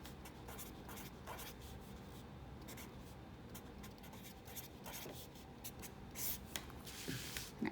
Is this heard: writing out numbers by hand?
yes